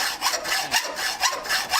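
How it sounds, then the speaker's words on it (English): An 18 tooth-per-inch hacksaw cutting through a wheelbarrow hub clamped in a lathe chuck, loud, close rasping strokes in a steady back-and-forth rhythm, about four strokes, with no voices. "take this 18 tooth per inch hacksaw,"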